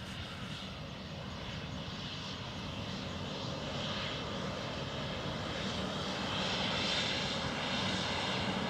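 A fixed-wing airliner lands on runway 28 left at Dublin Airport, its engines a steady, broad roar that builds gradually and stays loud and continuous throughout, with no voices.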